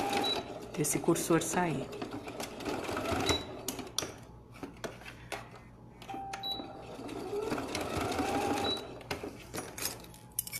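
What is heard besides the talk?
sewing machine stitching a first aid pouch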